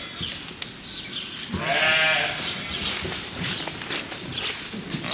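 Young lambs bleat in a farm setting during a caravan stay in the Cotswolds, one clear harmonic bleat near the middle over scuffling and background noise, with fainter calls around it.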